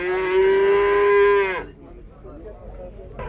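One cow with a calf at Zharkent livestock market lets out a single long, loud moo lasting about a second and a half, then fades into quiet market background.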